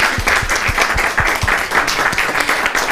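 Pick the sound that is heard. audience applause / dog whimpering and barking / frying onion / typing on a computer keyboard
audience applause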